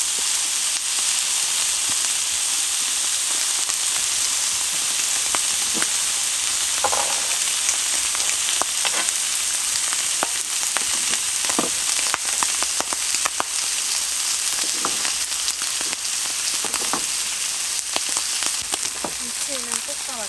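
Kimchi stir-frying in a pan at a rainy forest campsite, a steady broadband sizzle with faint scraping clicks throughout, close and continuous, with no voices.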